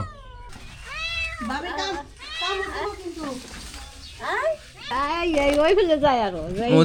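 Unowned cats meow loudly and close by near a litchi tree, giving a string of drawn-out, wavering cries one after another with hardly a pause, growing more insistent toward the end.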